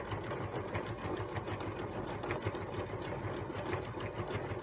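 A sewing machine stitching tabard fabric runs steadily throughout, a fast continuous mechanical whirr with rapid needle clatter, close and even in level, no talking.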